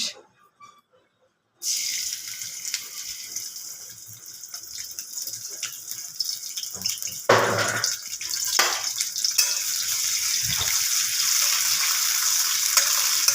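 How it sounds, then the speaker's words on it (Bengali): Shrimp fry in hot oil for a Bengali snake gourd dish, a steady sizzle that starts abruptly and carries on with some stirring clatter. "প্রথমেই তেল দিলাম, এরপর তেলের ওপর ছেড়ে দেব চিংড়ি মাছ।"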